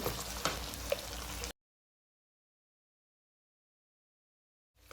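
Ivy gourd (tindora) frying in a pan, a steady dense sizzle for about a second and a half before cutting to silence.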